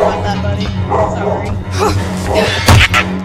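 A dog in the Friday the 13th video game barks and yips repeatedly, mixed with whimpers, over game noise while people talk throughout.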